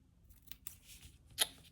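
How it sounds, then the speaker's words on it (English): Scissors snip through paper in a few quick, close, quiet cuts, the last one crisp and sharper than the rest. "we will go ahead and cut that out"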